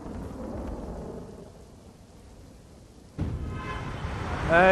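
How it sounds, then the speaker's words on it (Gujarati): Heavy rain pours down over an Ahmedabad street with thunder in a storm: a continuous broad roar that thins slightly, then surges louder near the end, with a faint tonal sound rising over it at the close. "વરસાદ હજી પણ ચાલુ છે અને ઘણા વિસ્તારોમાં વરસાદ હજી જોવા મળી રહ્યો છે"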